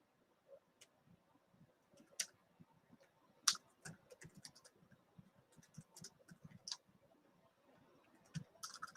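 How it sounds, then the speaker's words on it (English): Soft, irregular clicking of keys on a computer keyboard while a letter is typed, faint and close, with uneven bursts and pauses between keystrokes. "So I'm just typing a letter to John B."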